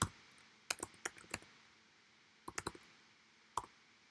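Calculator keys tapped in two quick bursts, a handful of sharp, light clicks, then a lone tap near the end, with quiet gaps between and no talking.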